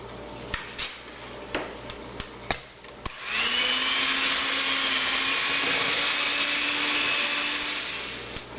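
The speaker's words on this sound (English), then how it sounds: "when it comes to butter and sugar, they just cream nicer if you do it with a mixer" Electric hand mixer with only two working speeds creaming butter and sugar for cookies, a few sharp taps and clicks before the motor starts and then a steady, loud whirring drone that runs continuously to the end.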